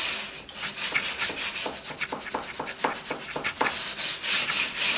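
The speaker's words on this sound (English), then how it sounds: "I'm going to take my sandpaper and right there to the edge I'm going to bevel it" Sandpaper rubbed by hand along the edge of wood veneer on a window sill repair, beveling it in a steady series of close, scratchy back-and-forth strokes with no talking.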